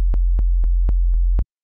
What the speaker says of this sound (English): This is going to just be a sine wave. We're going to put this two octaves down